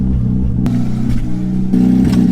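A damaged Honda Civic Type R engine with a missing O2 sensor revs hard in loud, surging bursts, climbing and falling in pitch with a rough mechanical clatter underneath.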